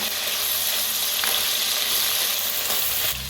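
Curry leaves and vegetables fry in a hot pan for a pasta dish, giving a dense, steady sizzle with close crackling throughout and no speech.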